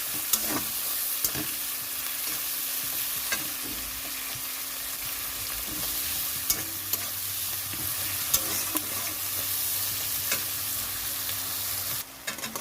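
Onions fry in a wok with a continuous close sizzle, punctuated by scraping stirs and occasional utensil knocks, and no voices over it.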